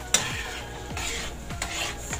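A spoon stirs egg stew purée in a pot over low heat. It makes three slow, rubbing scrape strokes, each with a brief sweep, close and clear with no voices.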